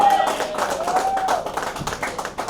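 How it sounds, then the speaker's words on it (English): Scattered clapping at an actor's film trailer launch event for a doctor, loose irregular claps under a ringing tone and some background chatter, fairly close and moderate in level, thinning toward the end. "Huge round of applause for Dr. Sharan"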